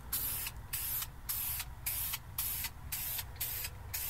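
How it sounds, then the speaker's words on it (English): Spray primer hisses onto a statue's shield in about eight short, even bursts with brief pauses between them, close and steady. "The primer is being applied in 2 to 4 coats."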